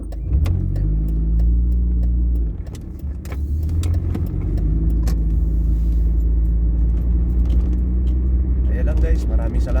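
Cars on a Philippine road during a morning commute, a steady low engine and road rumble from close by for the whole stretch, briefly dipping midway, with speech over it.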